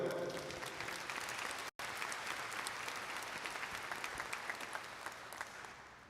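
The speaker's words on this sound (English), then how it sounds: "If I can get a round of applause for them." A large crowd at a high school graduation ceremony gives a sustained round of applause, dense and steady for about six seconds with a brief cut partway through.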